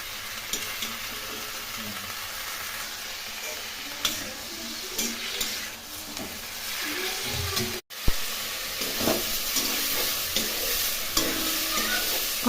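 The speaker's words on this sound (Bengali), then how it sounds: "এখন ঢাকা দিয়ে এই ফুলকপিগুলো ভালো করে ভেজে নেব।" Cauliflower frying in a pan with salt and turmeric, a steady close sizzle with scraping stirring strokes throughout and a brief break midway.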